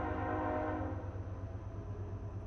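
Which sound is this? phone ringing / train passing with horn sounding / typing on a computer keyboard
train passing with horn sounding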